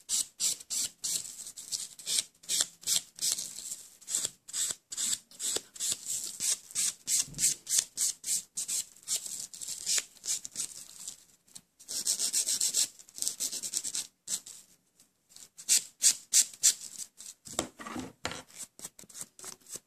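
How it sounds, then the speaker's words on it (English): A 180 grit buffer or file rubs quickly back and forth over a fingernail surface, a close, dry, rhythmic scratching of many short strokes with a couple of brief pauses and no talking. "Remove the shine of the nail bed with a 180 grit buffer or file."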